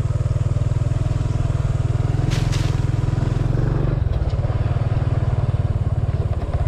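A motorcycle engine drones steadily up close while riding over a bridge, with a brief metallic clatter partway through as the ride rolls on.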